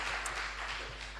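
An audience at a GNOME developer conference talk claps, a brief, even wash of hand claps heard from a distance without any voice.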